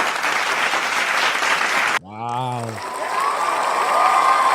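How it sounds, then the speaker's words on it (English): A crowd claps and cheers in a round of applause for Coach Logan Anderson, loud and sustained for about two seconds, then cut off abruptly as a single voice exclaims. "Big round of applause for Coach Anderson here."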